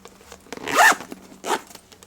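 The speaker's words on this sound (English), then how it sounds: "Let's see if I can zip it up" A zipper is pulled on a bag organizer tucked inside a vintage Gucci bag, peeling paint on the bag: one long rasping zip, then a shorter second pull, close and clear.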